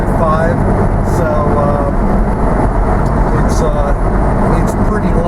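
A Porsche 987.2 Spyder with PDK gearbox and low-boost twin-turbo setup drones steadily from inside the cabin, a loud, constant engine hum under road noise.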